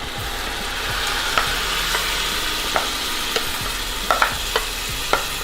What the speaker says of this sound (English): just stir that up to coat the rice and evenly distribute those onions and those vermicelli noodles